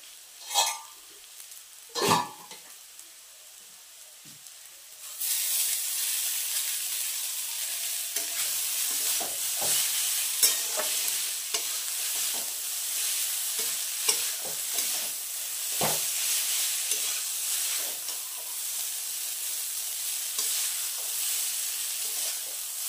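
Chow mein noodles sizzle and fry in a hot pan, stirred steadily with scrapes of a spatula; after a quiet start with a few clinks, a loud continuous sizzle runs to the end with no voices.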